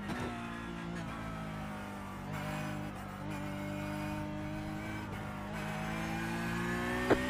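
A race car engine in the iRacing video game holds a steady high-pitched drone with harmonic whine, shifting pitch slightly between gears, with a short sharp spike near the end.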